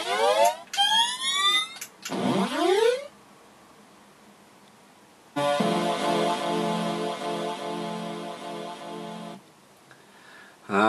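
Chiptune effects from the Commodore 64 game Hyper Sports: rapid sweeping zaps and falling chirps, a pause, then a buzzy electronic melody line, with no speech.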